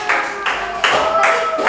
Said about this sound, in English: give applause to all of you